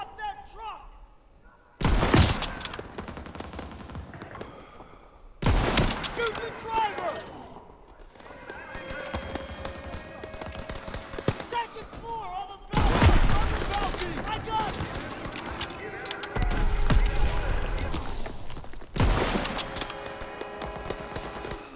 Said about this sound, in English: I'm taking out the ones that are shooting at them.